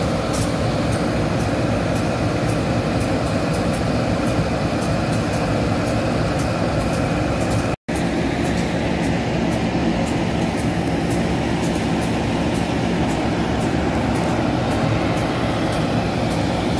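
Walahar commuter train running from Cikarang to Purwakarta, a steady close rumble of the rail car rolling with an even drone throughout, a brief dropout midway, with no talk.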